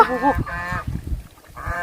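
Several geese honk in loud, nasal bursts close by, with short pauses between calls.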